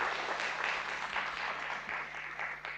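An audience applauding panelists at an education conference on reading for pleasure, steady continuous clapping from a crowd, moderately distant and even throughout, with no talking over it.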